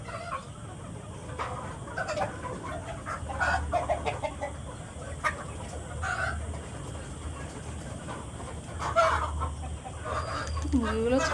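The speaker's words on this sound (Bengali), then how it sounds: "বড় বড় মোরগও আছে দেখো।" Hens cluck and a rooster calls on a farm, the bird sounds scattered and fairly close amid background rustling and people talking.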